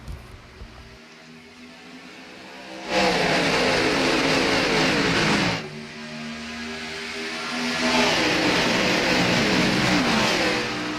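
A pack of race cars accelerates on the green-flag restart at Daytona International Speedway in an RMR Tuesday Night Thunder event. Loud engine roars swell and fade in waves as the cars pass, with no talking.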